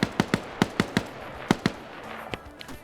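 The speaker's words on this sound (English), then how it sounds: "King gets blown up by another grenade" Grenade blasts and gunfire in a modern military video game, a rapid series of about ten sharp cracks and bangs, fairly close, spaced irregularly and fading toward the end.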